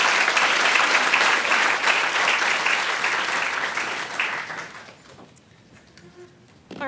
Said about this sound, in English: a big round of applause for our experts from OCO2